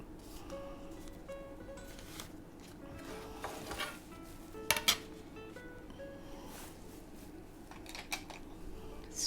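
Scissors snip through scrapbooking paper while a fall-themed junk journal cover is trimmed, with a few crisp, close cuts standing out over a faint background hum.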